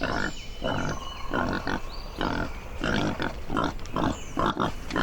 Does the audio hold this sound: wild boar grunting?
yes